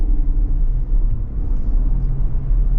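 Deep, smooth rumble of a 2025 GMC Yukon Denali Ultimate's 6.2 V8 pulling under acceleration, heard from inside the cabin as a steady low drone with no talking.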